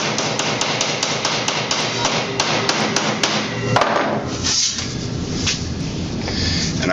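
A hammer repeatedly strikes a sheet metal Pittsburgh joint to flatten it, giving sharp metallic blows in a quick, irregular series that are loud and close, then settle into scraping and handling noise.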